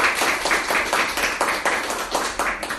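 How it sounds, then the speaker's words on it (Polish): Audience at a Polish hip-hop author meeting clapping to welcome the guest Sebastian Rakim, a dense, steady patter of hands that holds for a few seconds, close and fairly loud. "To może tak brawa na początek"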